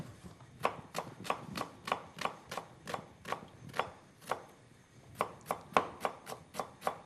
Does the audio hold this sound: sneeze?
no